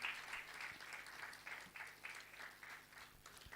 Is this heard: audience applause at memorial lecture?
yes